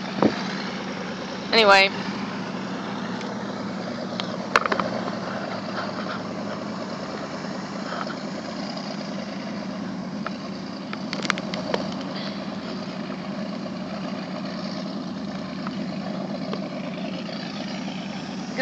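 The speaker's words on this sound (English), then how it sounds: "that's that boat right there making all that noise." A boat engine runs nearby as a steady low droning idle throughout, with a few brief clicks and knocks on top and a short word spoken early on.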